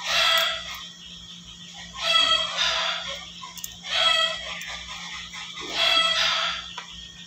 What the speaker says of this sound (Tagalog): Ingay ng mga manok.